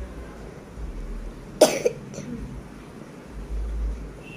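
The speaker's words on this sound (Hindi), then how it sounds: "मुझे ना खांसी है" A single sharp cough breaks through a quiet room, followed by a softer second cough, with faint low background noise around it.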